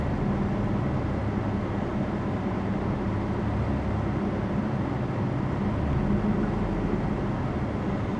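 A 1994 Toyota 4Runner engine idles roughly with a surging fault, a loud, close, continuous low rumble that holds fairly even throughout with no voices.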